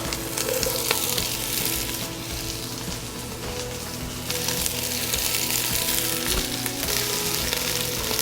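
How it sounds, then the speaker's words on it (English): Onions sizzle loudly in a hot pot for Hungarian pork goulash, a steady crackling fry with a few sharp pops and a brief scrape of stirring. "I'm going to drop my onions. Sizzle, hear that?"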